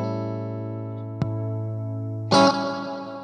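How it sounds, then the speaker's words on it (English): An electric guitar runs through a Durham Reddverb reverb pedal with its overdrive engaged: a sustained chord rings, a brief click cuts in, then a brighter, louder strummed chord blooms and decays with a reverb tail. "And now we have this very special Durham pedal."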